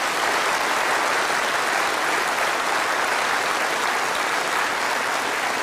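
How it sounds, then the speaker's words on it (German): Studio audience applauding Sabine from the ballet at a Schlager show, a loud, dense and steady ovation with no speech. "Nochmal einen herzlichen Applaus für Sabine."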